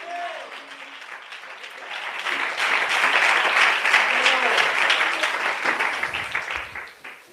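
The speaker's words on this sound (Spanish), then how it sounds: "¡Aplaude a Dios!" A church congregation bursts into applause for God during a sermon, the clapping building from a voice at the start to a loud, full swell before tapering off.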